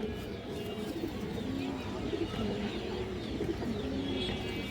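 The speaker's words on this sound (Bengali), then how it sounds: "বিগ সাইজের একটা কবুতর" A large red makra pigeon, an older breeding male, coos in repeated low rolling calls at close range over a constant background hum, with other birds faintly present.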